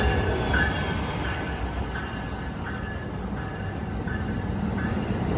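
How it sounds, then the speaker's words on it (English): An Amtrak Capital Corridor train led by an SC44 Charger locomotive approaches the Oakland Coliseum station, giving a faint, steady rolling rumble with light rhythmic rail clicks. "Now approaching the Oakland Coliseum Amtrak station."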